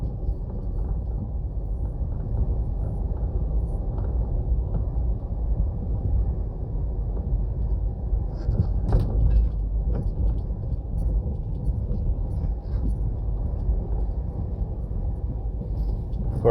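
Road traffic on Mannings Hill Road in Jamaica makes a steady low rumble of passing cars and trucks, continuous and fairly close, with no talking.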